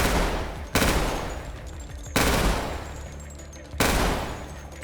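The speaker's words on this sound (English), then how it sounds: "Start off by using short bursts of the Mac 10." A Mac 10 fires three loud, sharp bursts in the video game Decaying Winter, each separated by a short pause and trailing off as a decaying rumble.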